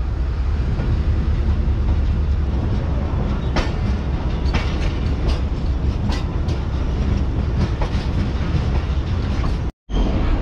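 The Karakoram Express pulls out of the station in Lahore, a loud, steady rumble of a moving train with repeated clickety-clack wheel beats, briefly cut off near the end.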